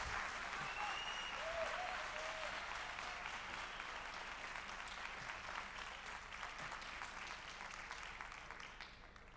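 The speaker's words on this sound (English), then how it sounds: "big round of applause for Greg Street from Riot Games" A conference audience gives a sustained round of applause to welcome a Riot Games design director on stage, a dense wash of clapping that slowly fades, heard from a distance in a large hall.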